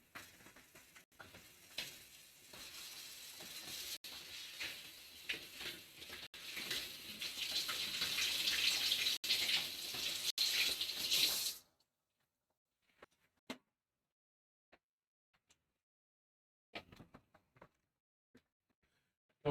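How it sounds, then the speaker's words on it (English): Hands being washed under a running kitchen tap during home cooking, a steady broadband rush of water for about eleven seconds that stops abruptly, followed by a few faint clicks and small handling sounds in near silence. "I'm just gonna have to wash my hands."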